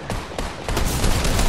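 Turret gunfire in Fortnite's tank mode, a burst of rapid, loud automatic shots in quick succession that grow denser toward the end.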